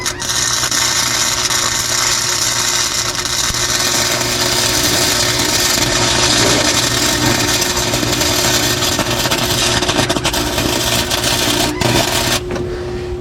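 Steady loud buzzing crackle of a welder fusing a brake tab onto a car frame, continuous for the whole stretch with a constant hum underneath and no talking.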